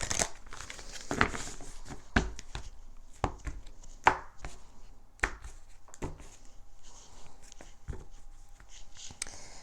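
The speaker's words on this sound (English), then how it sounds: "this is the Rumi Oracle last shuffle" A Rumi Oracle card deck is shuffled close and quiet, giving a series of sharp crisp card snaps and riffles spaced irregularly over soft rustling.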